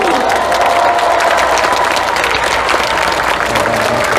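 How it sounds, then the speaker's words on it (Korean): A large political convention crowd gives a powerful, unbroken wave of applause for two candidates, dense clapping with scattered cheers filling the hall steadily and loudly throughout. "이 두 분을 위해서 힘찬 박수 보내주십시오"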